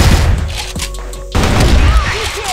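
A Barrett sniper rifle fires in a shooting game: heavy, booming reports burst loud and close, with a short lull before another blast rolls on into continuous gunfire and rumbling.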